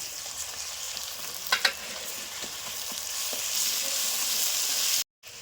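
Garlic paste frying in a pan with onions and green chillies, a steady, close sizzle running throughout, a couple of brief stirring clatters partway through, then a sudden stop at the very end.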